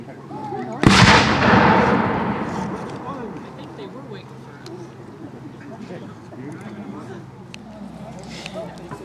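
Loud gunfire blast at a village battle reenactment, a sharp report rolling into a long decaying echo, followed by softer scattered activity and voices talking in the background.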